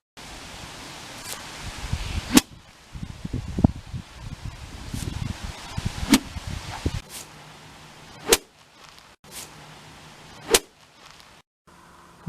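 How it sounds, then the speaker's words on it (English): A hickory-shafted golf club, a niblick, whips through the air in sharp, brief swishes, several separate swings spaced a few seconds apart over a faint outdoor rustle. "In my opinion, the whirring of a Hickory golf club is one of the most satisfying sounds in golf."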